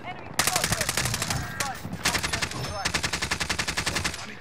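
Rapid automatic gunfire in the battle royale shooter Call of Duty Warzone, Rebirth Resurgence mode: loud close bursts of evenly spaced shots with brief pauses between them, a voice talking briefly underneath.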